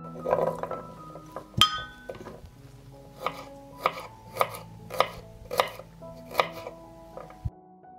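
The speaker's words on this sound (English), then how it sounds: "I will chop 1 head of garlic." A knife chops a head of garlic on a board in a series of sharp, close taps. One bright clink comes early, then the cuts fall in a steady rhythm before a final knock.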